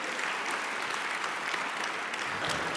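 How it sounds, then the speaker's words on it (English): An audience at an awards gala applauds a speaker named John, a continuous wash of many hands clapping at steady loudness throughout, with no talk over it. "Another round of applause for John."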